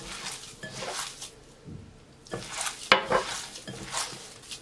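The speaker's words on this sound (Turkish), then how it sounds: "5 dakika boyunca yoğuracağım. İyice yoğurmaya özen gösterin lütfen." Köfte mixture is kneaded by hand, producing rhythmic squishing and slapping pulses with short gaps, close and moderately loud, with an occasional sharper knock against the bowl.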